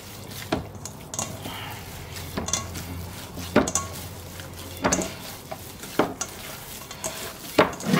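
Hands kneading a wet Greek meatball mixture in a bowl, giving soft squishy slaps and sticky squelches in an irregular rhythm, with occasional light clinks against the bowl, close and fairly quiet.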